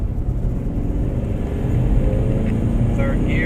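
A Ford Mustang EcoBoost engine drones steadily at low pitch while the car is driven and eased down, a continuous rumbling hum that swells slightly partway through.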